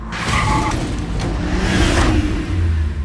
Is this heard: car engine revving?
yes